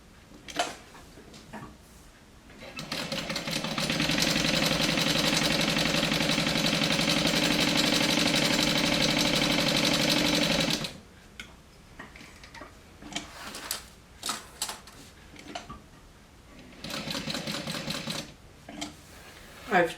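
An industrial sewing machine stitches around a rectangle of fabric, a loud, steady, rapid mechanical whir lasting several seconds, followed by shorter bursts of stitching among quieter handling noises, with occasional talking.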